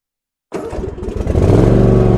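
A John Deere Z530M zero-turn mower engine catches abruptly after silence and settles into a loud, close, steady running drone that grows slightly fuller as it continues.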